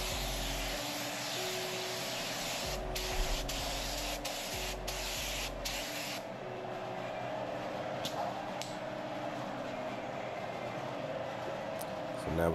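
A DV1 spray gun sprays car paint inside a booth, a loud, steady pneumatic hiss broken by several short pauses in the first half, then a continuous spray.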